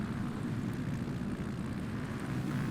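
A steady, moderately loud drone of jet aircraft engines in Microsoft Flight Simulator, with no talk.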